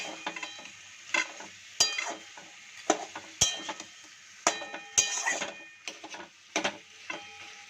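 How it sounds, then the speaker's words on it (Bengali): Hilsa fish heads frying with taro greens in a pan, a steady sizzle under repeated sharp clanks and scrapes of a spatula stirring against metal, close and fairly loud, no talking. "মাছের মাথাটা দিয়ে আমি একটু ঘেটেও দিয়েছি"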